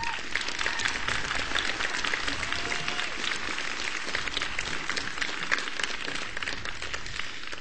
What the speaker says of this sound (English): You might want to give them a moment of gratitude with your applause as well.